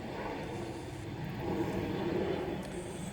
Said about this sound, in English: I've got this plane circling around because, well, I'm next to NASA.